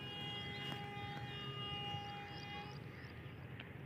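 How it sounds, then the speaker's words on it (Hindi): A Pakistan Railways HBU 20 Hitachi diesel locomotive sounds its whistle near a station: a sustained, steady tonal blast of about three seconds that fades slightly, heard from a distance and fairly faint. "ताकि आपको 80-76 का विसल जो है वो सुनवा सकूँ"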